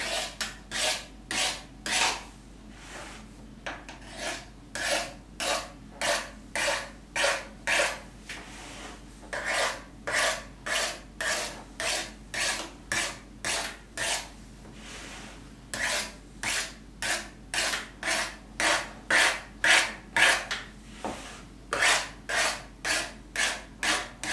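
Pastry edges for an apple and rhubarb tart being gently scraped and trimmed, a steady run of short rhythmic rasping strokes, close and fairly quiet, with no voices.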